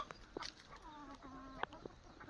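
Native village hens from a backyard flock of about 120 birds give soft, faint clucks and a few brief calls against quiet farmyard ambience.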